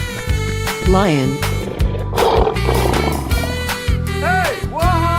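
A lion roars in a 3D animal slide video game, a short growling burst set against steady game music, with a voice talking over it.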